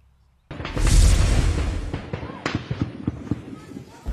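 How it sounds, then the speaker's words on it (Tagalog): Successive gunshots in an armed clash between soldiers and an unidentified group in barangay Kuloy, Sharif Aguak, Maguindanao del Sur: a loud opening blast followed by a rapid string of sharp, echoing reports, with voices underneath. "Umalingaw-ngaw ang sunod-sunod na putok ng baril sa barangay Kuloy sa bayan ng Sharif Agua kaninang umaga."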